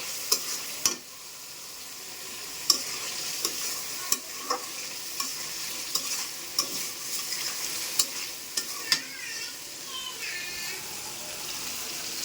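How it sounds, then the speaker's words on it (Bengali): Taro frying in a pan hisses steadily while a spatula scrapes and taps against the metal at regular intervals. "মাঝে মধ্যে কচুটা নেড়ে দিচ্ছি"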